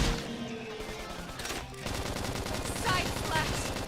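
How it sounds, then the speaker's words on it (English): Video game gunfire in Xenoblade Chronicles X Definitive Edition: dense, rapid bursts of shots in a continuous barrage, loud and close, with battle effects and spoken voices layered over it. "If we can just topple them with gunfire!"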